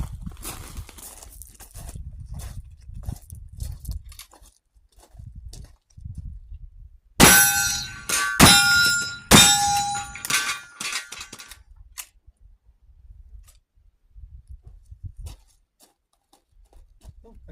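Several loud, sharp reports from an 1873 Winchester lever-action rifle firing full .45 Colt black powder loads, about four shots spaced roughly a second apart, with quiet outdoor stretches and faint movement before and after.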